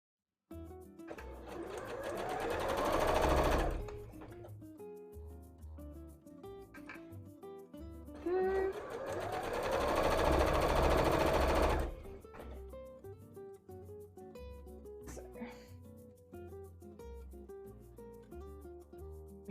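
A sewing machine stitches a cosplay costume in two long, loud runs of rapid whirring, separated by quieter stretches with other sounds in the room.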